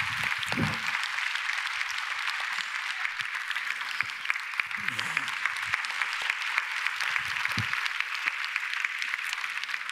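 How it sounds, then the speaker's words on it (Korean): A church congregation at a Korean Sunday service applauds in a steady, even wash of clapping that lasts throughout, with a faint voice now and then underneath. "다시 한번 박수해 주시겠습니다"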